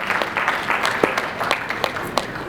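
Audience at an African disability and inclusive education conference claps for a Kenyan education specialist on the panel, a dense, steady patter of hands from a roomful of people, moderately loud and continuous throughout.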